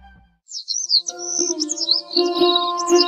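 Bright, warbling cartoon bird chirps trill continuously over a few seconds, close and clear, alongside a steady tonal backing sound.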